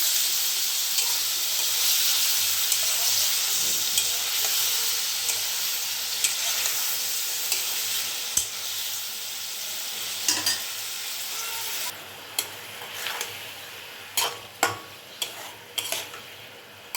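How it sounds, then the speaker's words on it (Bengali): Spiced cauliflower roast sizzles steadily in a pan while being stirred, the frying hiss loud and continuous, with sharp spoon scrapes and taps growing more frequent toward the end. "এগুলোকে খুব ভালোভাবে মিশিয়ে নেব।"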